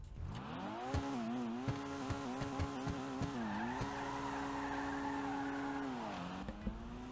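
A GTA Online Maxwell Asbo car engine revs and whines steadily while tires squeal in repeated bursts, loud and close.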